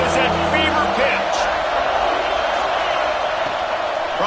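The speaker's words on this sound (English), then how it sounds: "this crowd is at fever pitch." A stadium crowd in a college football video game roars in a sustained, loud, dense wash of cheering during a third-down red-zone play, steady throughout with no clear breaks.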